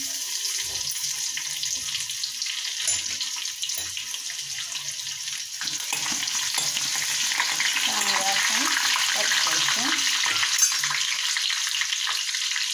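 Crushed garlic paste frying in hot oil in a pan gives a loud, continuous close-up sizzle that grows denser midway, with faint stirring beneath and no talk.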